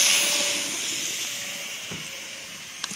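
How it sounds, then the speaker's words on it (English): Southern Pacific 6380, a steam engine, hisses steadily with escaping steam, a broad airy rush that slowly fades, ending with a brief metallic knock. "I think this can stop the steam engine."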